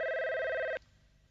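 A cartoon telephone rings once, a bright electronic trill that cuts off abruptly after under a second, followed by quiet background.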